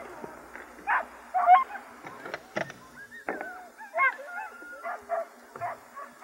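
Sled dogs in Wisconsin bark, yip and whimper in short, excited bursts, several overlapping calls close by, with a few brief clatters in between.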